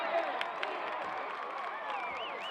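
A football crowd at a Regina Powderpuff 2013 game boos and shouts at a fan who has run onto the field with a flag, a dense steady roar with a whistle-like rising tone near the end.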